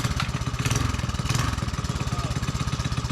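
A motorcycle with a freshly rebuilt engine and hot coil, choke on, runs close by with a fast, even putter and steady idle throughout. No one speaks.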